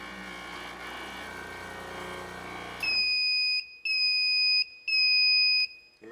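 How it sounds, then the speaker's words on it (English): After a steady machine hum cuts off, a Kernel wheel balancer gives three loud, close electronic beeps, each a sustained high tone lasting about a second, separated by short gaps. No one speaks. "The machine beeps 3 times and displays saved data."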